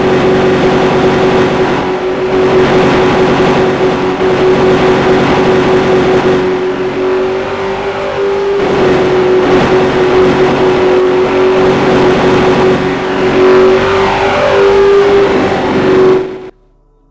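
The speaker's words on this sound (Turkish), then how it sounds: "Evet yine o mükemmel motor sesi." A 2013 Bugatti Veyron Vitesse sports car engine in a video game drones and revs steadily at high pitch for a long stretch, loud and sustained, with no talking, then cuts off abruptly.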